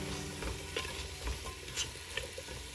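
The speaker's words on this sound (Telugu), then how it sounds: "ఇప్పుడు ఈ కూరగాయ ముక్కలు వేగనివ్వాలి" Carrot, cauliflower, beans, peas and potato pieces fry in a pan, a soft continuous sizzle broken by a few scraping stirs, close by and fairly quiet without any voices.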